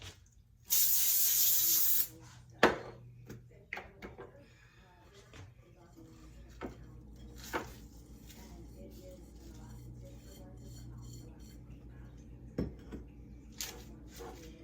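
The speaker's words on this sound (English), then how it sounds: "spray your parchment paper as well" A short burst of cooking spray onto parchment paper hisses for about a second, followed by quiet clinks, taps and faint kitchen handling noises.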